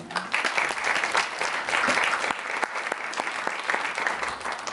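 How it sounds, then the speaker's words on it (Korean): An audience at a policy forum on a world science summit applauds to welcome the opening speaker, with sustained, dense clapping from a roomful of people that holds steady throughout. "박수로 맞이해 주시기 바랍니다"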